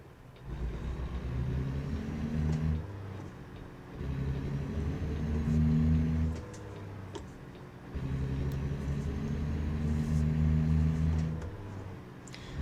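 Car engine in a driving game played on a Logitech G29 wheel with shifter revs up in three rising pulls, each climbing in pitch then dropping between shifts, steady and prominent with no talking.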